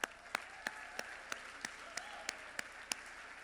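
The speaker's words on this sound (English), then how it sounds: "Yeah, clap that up." At a growth summit, about ten slow, evenly spaced claps ring out in a steady rhythm, fairly faint over a quiet room.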